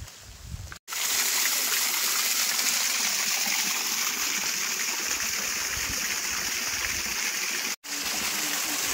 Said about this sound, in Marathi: छोटासा इथं धबधबा आहे